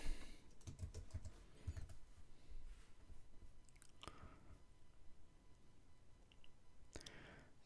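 Quiet typing on a computer keyboard, clusters of soft rapid key clicks at the start and scattered isolated taps afterward, close and faint with no talk.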